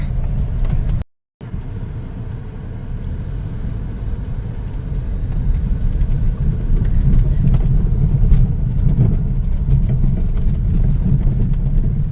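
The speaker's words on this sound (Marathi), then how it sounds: "आम्ही समुद्रात गाडी घालतोय आता" A car being driven into the sea at Harihareshwar, heard from inside as a loud, steady engine and road rumble that briefly drops out and then swells slightly as the vehicle presses on, with no talking.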